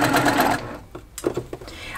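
A sewing machine stitches quilt fabric, a fast steady whirr at first that stops, then short bursts and clicks as the fabric is guided, with a person talking faintly over it.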